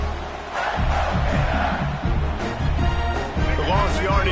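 Home crowd at an FSU versus Florida college football game roaring with displeasure, a loud sustained mass of voices with swelling surges, crowd noise mixed with speech.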